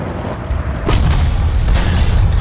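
Artillery strike in the War Thunder tank game, a heavy booming blast that rolls into a sustained loud rumble of explosions.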